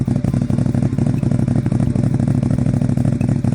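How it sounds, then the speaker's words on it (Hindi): A magical superbike's engine roars steadily at speed in an animated story, a loud continuous motor drone with rapid pulsing throughout, no voices. "किंग क्रोधित होकर अपनी बाइक को सुपर बाइक में बदल देता है और स्पीड के साथ दुकान की ओर जाता है।"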